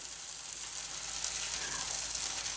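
Masa pupusa dough lands on a hot griddle and fries with a steady, close crackling sizzle, with no talking.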